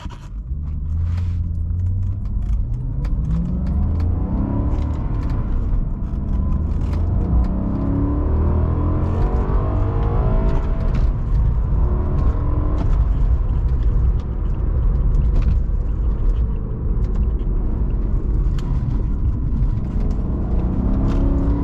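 A 2006 Maserati Quattroporte M139 engine under way on the road, a continuous loud rumble with rising and falling revs, whirring mechanical tones and steady cabin drone, no voices.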